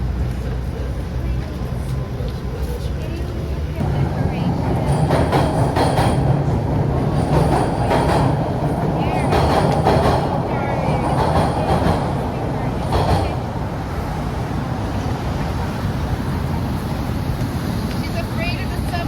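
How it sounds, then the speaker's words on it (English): Subway train rumbling past at a city street intersection, a loud steady roar with faint wheel squeal and rail clatter throughout, peaking in the middle, with some speech mixed in. "She's afraid of the subway noise."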